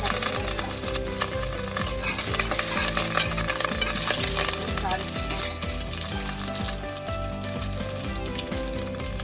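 Curry leaves with mustard seeds crackle and sizzle in hot coconut oil while a spoon stirs and scrapes the pan steadily, a dense continuous frying noise with a background music bed running throughout.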